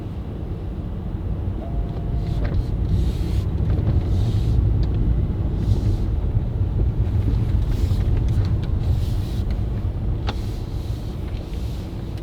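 A 2023 Mercedes S500 luxury sedan drives along, heard from inside the cabin as a steady, low road rumble with faint intermittent clicks and tire noise and no voices.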